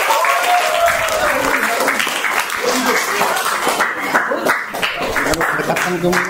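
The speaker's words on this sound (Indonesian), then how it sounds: "Boleh beri tepuk tangan untuk 3 teman kita yang tadi ini" A small group at a health education session claps for three participants; the clapping is loud and continuous, with voices talking over it throughout.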